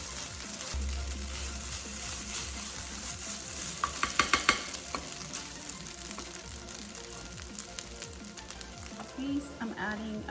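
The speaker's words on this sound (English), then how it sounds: "So you want to go ahead and keep on stirring." Breakfast casserole mixture with browned shredded potatoes sizzles and fries in a pan while a spoon stirs through it, a steady crackle broken by a few sharper scraping clinks, with a voice speaking over the cooking.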